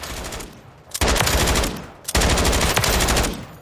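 Loud, sustained bursts of automatic fire from an MK46 machine gun in Call of Duty Modern Warfare III, two long rapid volleys separated by a brief pause.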